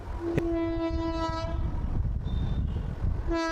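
A WAP-4 electric passenger locomotive of Indian Railways blares its horn at the start and again at the end, over a loud, steady rolling rumble.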